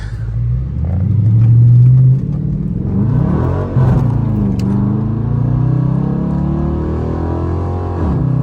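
A 400hp Dodge Charger RT drives at night, its V8 engine rumbling loud and close from inside, revving up and then settling into a steady cruising drone with shifts in pitch.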